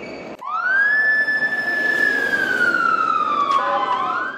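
A loud police siren rises sharply, then holds a long wailing tone that slowly falls and starts to climb again, close by, as police disperse a protest.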